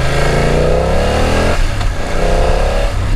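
A BMW F 900 XR motorcycle engine revs up twice in quick succession, pitch climbing with each throttle blip, loud and close, with no talking.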